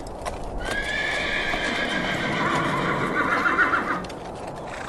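Horses neigh repeatedly in a long, rising whinny while hooves clip-clop steadily underneath, close and clear, in a storybook scene of weary horses on a journey through a storm.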